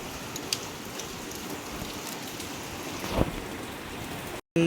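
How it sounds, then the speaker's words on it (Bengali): Heavy evening rain driven by wind pours down in a continuous, dense roar. A brief gust swells near the end before a short cut. "প্রত্যেক দিন সন্ধে হলেই ভীষণ জোরে বৃষ্টি হচ্ছে,"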